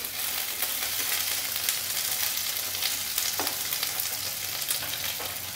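Kundri with onion and posto frying in a pan, a continuous low sizzle with light stirring scrapes that hold steady throughout.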